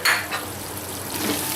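Beef shashlik sizzles in a pan as a utensil stirs it, giving a soft steady frying hiss with a light scrape at the start, close by and without talk.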